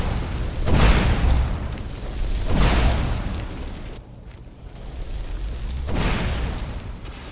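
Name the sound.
flame trap going off in the video game Skyrim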